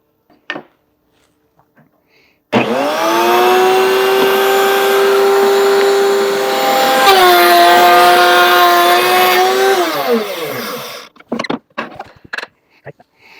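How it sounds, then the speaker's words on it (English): A power saw starts with a loud steady whine, changes pitch partway through as it cuts wood for a small bookshelf against a stop block, then is switched off and winds down in a falling tone before the room goes quiet. "I'm going to turn it on, I'm going to make the cut"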